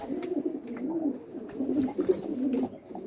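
Bango pigeons coo steadily at the coop, a soft, low, rolling warble that continues throughout with a few faint chirps above it.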